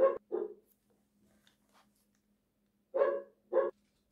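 A pair of dogs bark indoors or nearby, two sharp barks, then a pause of a couple of seconds, then two more barks, fairly faint against a quiet background.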